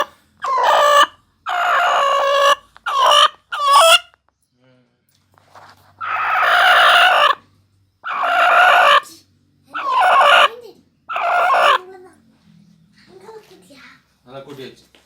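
A brooding hen sitting on eggs clucks and squawks loudly nearby in a series of harsh, agitated bursts separated by brief quiet pauses.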